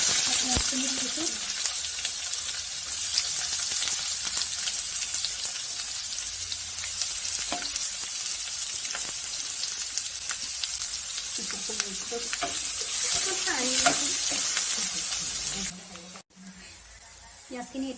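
Onions fry in hot oil with dried chillies in a pan for a dhaba-style dal tarka, giving a loud, steady, close sizzle broken by stirring scrapes and brief spoken remarks.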